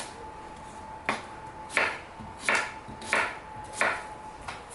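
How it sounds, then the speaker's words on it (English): A knife slicing cucumbers on a cutting board gives six crisp, evenly spaced chops at a steady rhythm, close and clear over a quiet background. "I'm going to cut some cucumbers because we love cucumbers"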